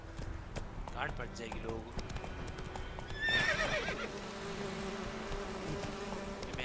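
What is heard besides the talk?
horse Roach galloping and neighing in video game Witcher 3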